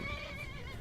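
Horse neigh in the video game Skyrim, a short whinny with harmonic tones over steady game background sound, loud and close, lasting under a second.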